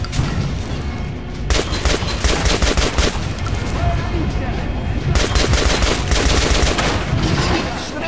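Rapid gunfire into an armored training dummy in Metro: Last Light, in two long loud bursts separated by a brief pause, with a voice speaking German over the shooting.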